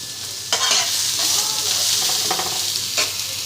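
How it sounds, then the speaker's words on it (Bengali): Onions frying in oil until brown for a mutton curry, giving a steady sizzle with spoon-stirring scrapes and a few louder bursts of crackle, close and continuous. "একটু পেঁয়াজ হালকা করে ভেজে নেবো"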